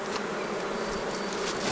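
Honey bees buzz around an open hive during a dark, overcast hive inspection, a steady close swarm hum with no voices.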